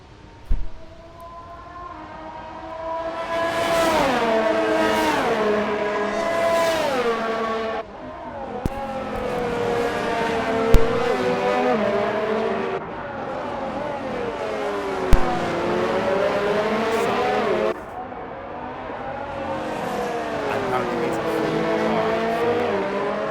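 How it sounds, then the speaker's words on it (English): Haas and other Formula One cars stream out of the pits at the Singapore circuit in a racing game, their high engine whines rising and falling in overlapping sweeps under steady commentary. "So quite a few cars starting to pour out of the pits"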